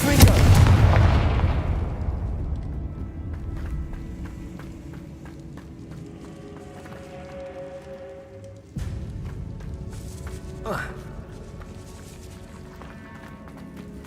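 A fiery Confringo spell explosion from the Hogwarts Legacy video game bursts loud at the start, then rumbles and decays slowly, with a smaller crackle near the end.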